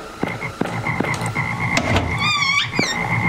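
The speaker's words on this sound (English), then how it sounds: "Now there's frogs here." Video game frogs croak repeatedly in short rhythmic bursts alongside game music and chirpy electronic effects, fairly loud and close.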